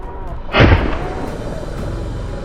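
A hunter fires a single gunshot at a wild boar beside a cornfield, one sharp loud report that booms and decays into a lingering outdoor echo.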